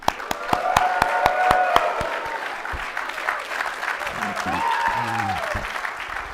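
Dinner crowd at a wild game feed bursts into loud, sustained clapping, sharp claps ringing out early, then settling into steady applause with scattered whoops and hollers and some voices mixed in.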